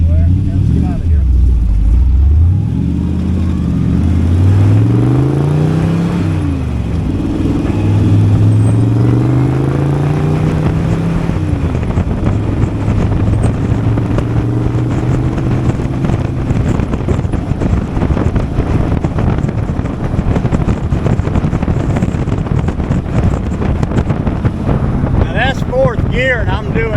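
A rat rod car driving in gear at about 2,400 RPM, its engine droning steadily and loudly with rising and falling tones, under heavy wind buffeting and occasional speech.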